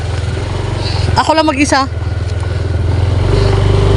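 A motorcycle rides along a road with a steady, close engine drone throughout, while a rider speaks briefly over it.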